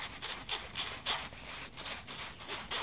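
Repeated scraping, rubbing strokes on rubber in a steady back-and-forth rhythm, close up and fairly quiet.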